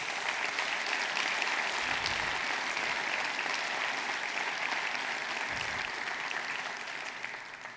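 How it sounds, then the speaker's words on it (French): Audience at a New Year greetings ceremony applauds continuously, a dense, even wash of clapping from a large crowd that fades slightly toward the end. "vous les applaudissiez tous les deux"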